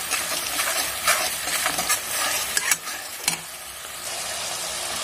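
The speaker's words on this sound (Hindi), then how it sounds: "तो अब हम डालेंगे यहाँ पर हल्दी और नमक। अब इसको सही से चला लेंगे।" Coriander seeds, fennel, turmeric and salt fry in a pan while being stirred for a kamrakh (star fruit) dish, giving a continuous close sizzle with scraping and clinking strokes from the spoon.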